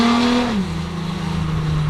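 A diesel-swapped GTR engine drops a gear: a loud, close droning note falls in pitch as the revs settle, then holds a steady, throbbing hum.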